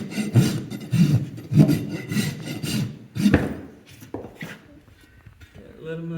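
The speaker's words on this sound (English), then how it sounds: "Okay, smooth side my rasp." Rasp filing a horse's hoof during trimming, a series of rough scraping strokes in a loose rhythm, close up, with a person talking in between the strokes.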